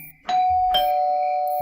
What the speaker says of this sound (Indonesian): Bel yang ada di kamarnya eyangnya itu bunyi lagi.